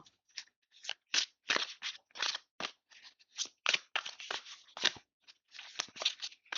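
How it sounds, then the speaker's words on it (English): A rapid series of crisp, papery riffling bursts, close and dry, repeating irregularly without any voices, like a deck of tarot cards being shuffled over and over. "Lots of shuffling going on."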